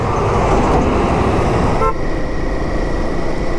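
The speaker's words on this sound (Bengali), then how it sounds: "প্রচুর লরি ছেড়ে দিয়েছে এই সময়" Lorries grind up a winding hill road in Keonjhar during the monsoon, a loud, steady engine rumble with one short horn toot partway through.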